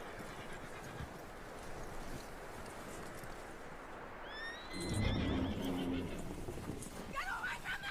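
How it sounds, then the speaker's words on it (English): Horse in Red Dead Redemption 2 gives a loud whinny midway, rising and falling over wind and faint hoof clops in a snowy setting, with a voice speaking nearby. "That looks like a decent horse."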